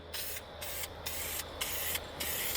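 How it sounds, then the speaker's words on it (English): A Dupli-Color vinyl and fabric spray can coats a car seat in short, even hissing bursts, about five in a steady rhythm with brief pauses between them, close and clear with no talking. "The only thing left to do now is to shake the can and get ready for spraying."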